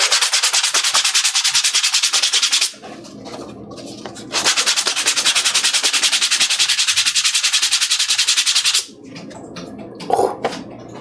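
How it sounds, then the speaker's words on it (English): Leather being sanded with sandpaper, long loud bursts of rapid rhythmic scratchy rubbing up close, separated by short pauses with quieter handling noises. "Get that sandpaper real quick."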